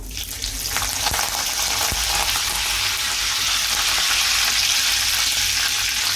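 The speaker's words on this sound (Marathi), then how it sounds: "तेल चांगलं गरम झालं की आपण जिरे टाकूया थोडे कढीपत्ता टाकूया" Cumin seeds and curry leaves dropped into hot oil for a potato bhaji, a loud continuous close-up sizzle that swells after the first moment and holds steady throughout, with no voices.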